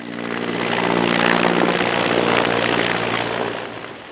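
A firefighting helicopter flying over a wildfire in southern Georgia, its rotor and engine roar swelling as it passes close overhead, then fading slightly, with no other sounds.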